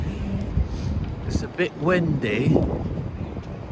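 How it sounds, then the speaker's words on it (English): Gusty wind buffets the microphone with low rumbling noise while a person talks over it outdoors on a cold day in New York City's Financial District. "Oh my goodness, it's a bit windy."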